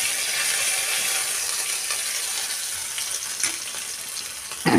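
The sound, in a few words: ginger frying in hot oil with five-spice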